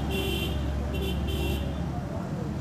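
A car horn is wired through a relay and sounds in steady tonal bursts, with a short break between them, over a constant loud background hum.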